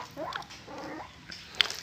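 Young puppies give soft whimpers and a sharp yip close by, brief and fairly quiet over a low background murmur.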